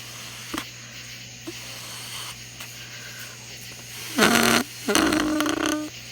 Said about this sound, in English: Yeah, that's a good fart.